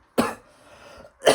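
One person coughs nearby, a harsh burst followed by a quieter rasp, and a second cough starts right at the end.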